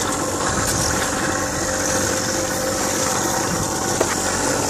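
Harley-Davidson motorcycle engine running steadily up close, a continuous dense rumble with vibration and no clear revving changes, loud and unbroken throughout with no talking.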